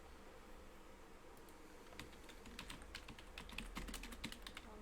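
Rapid clicking of keys on a computer keyboard, typed in quick bursts that grow busier toward the end, heard close but fairly quiet over a steady low room hum.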